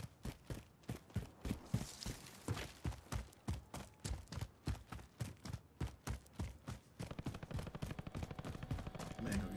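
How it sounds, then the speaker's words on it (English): Rapid bursts of gunfire from Call of Duty Warzone, a steady run of sharp shots in a fast rhythm over roughly ten seconds, loud and close, with faint voices in the background. "A lot of shooting at these stations too."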